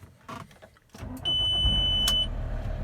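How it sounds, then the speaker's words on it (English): Engine of a VW T5 van starting: a few clicks and a rising whir as the starter turns, then the motor catches and settles into a steady idle, heard close up with a brief electronic chime. "But you can see, engine started."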